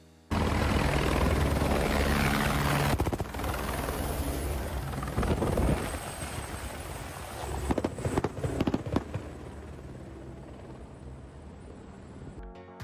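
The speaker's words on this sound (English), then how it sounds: "These helicopters flying really low while filming a car chase movie scene." Loud, steady rotor roar of helicopters passing low overhead while filming a car chase scene, with choppy thumping and gusty bursts that gradually fade as they move off.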